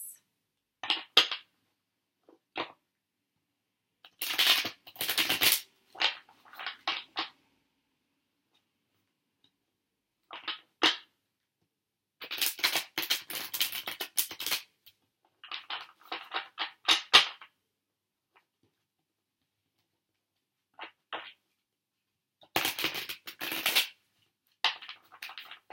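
Tarot clarifier cards are handled and shuffled in short, separate bursts of papery riffling and flicking, close and fairly quiet, with silent pauses between bursts.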